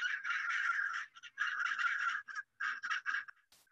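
Hundreds of birds in a large flock calling together, a dense chorus of raspy, nasal calls in bursts separated by short gaps, close and surrounding, with no other sounds behind them.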